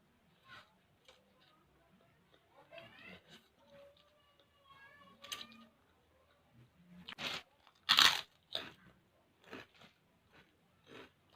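Crunchy kerupuk crackers bitten and chewed during a ramen mukbang, a series of sharp close crunches with one loud bite near the middle and softer chewing crackles between, no talking.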